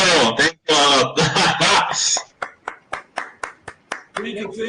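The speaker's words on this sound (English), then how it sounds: "Let's congratulate the winner of the quiz" After a stretch of speech, a small audience at a hackathon event breaks into sparse clapping that rings out as a string of distinct, evenly spaced claps, with talk resuming at the end.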